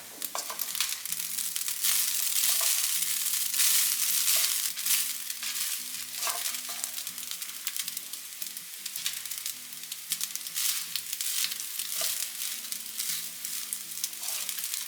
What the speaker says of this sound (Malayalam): ഇതിലേക്ക് നമുക്ക് വറുത്ത് വെച്ച അണ്ടിപ്പരിപ്പും മുന്തിരിയും ഇട്ട് കൊടുക്കാം. ഇനി നല്ലപോലെ മിക്സ് ചെയ്തെടുക്കാം.